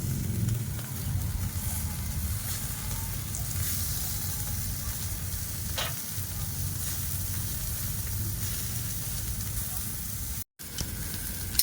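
Chicken and bangus (milkfish) sizzle on a barbecue grill in a steady, close hiss with a low crackle underneath. It runs continuously with a few brief pops, a short dropout near the end and faint talk at times.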